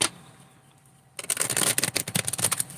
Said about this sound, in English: I'm gonna shut up while I shuffle.